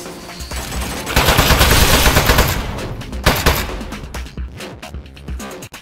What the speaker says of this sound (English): Oh, jeez, it's got a gun! It's an ambush!